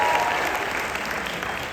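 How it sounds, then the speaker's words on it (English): Convention audience breaks into a short burst of applause, a dense wash of clapping from a large crowd that fades slightly over under two seconds. "Big round of applause"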